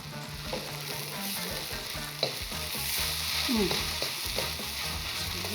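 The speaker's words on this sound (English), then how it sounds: "Toss all of that together until you have every grain of rice just beautifully coated in that sauce." Fried rice with greens tossed in a hot pan, crackling with a steady sizzle while a utensil scrapes and clanks against the metal in an irregular stirring rhythm, close and without talk.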